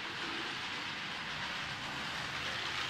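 3D-printed plastic model of an EU07 electric locomotive with a small motor running along its track, a continuous close rushing and clattering whir that holds steady for a few seconds, with no talking.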